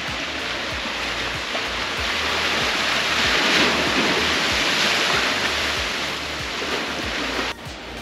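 Broad, steady wash of sea surf breaking below a coastal fort's rampart wall, with a continuous roar and faint wind noise throughout, no voices.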